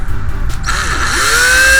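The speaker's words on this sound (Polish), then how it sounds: "wiercę małym wiertłem" A small power drill with a small bit whirs up to speed and holds a high, steady whine while drilling an Opel Corsa D door panel, preceded by faint handling noise.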